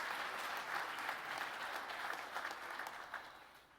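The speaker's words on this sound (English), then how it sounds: "So can we applaud for them," An audience at a digital industry summit conference claps steadily and continuously, a dense wash of applause at moderate distance that holds even for nearly four seconds before tapering slightly.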